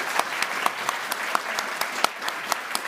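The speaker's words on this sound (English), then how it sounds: "I'm hoping everyone here will join in a big round of applause" An audience claps after an author's talk at a book event, producing steady, even applause with some individual claps standing out, moderately loud and continuous with no voices.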